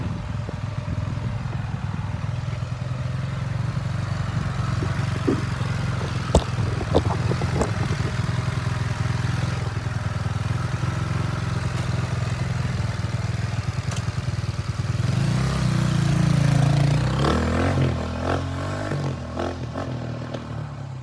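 Husaberg FE450 single-cylinder motorcycle, leaking water, running as it is ridden up and down a driveway: a steady, loud engine drone with clattering and scraping, rising in revs toward the end.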